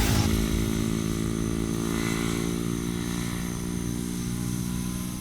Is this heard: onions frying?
no